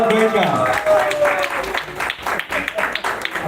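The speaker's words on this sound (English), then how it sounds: "A big round of applause for Mr." Audience applause for a quiz winner at an accounting and technology event, a steady dense patter of clapping under a loud voice.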